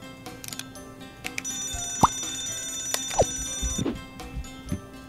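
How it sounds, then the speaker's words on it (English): An alarm in the video game Scribblenauts Unlimited rings with a sustained metallic bell-like tone amid game sound effects and short whooshing swoops, moderately loud and continuous for several seconds. "Help me test all of the alarms."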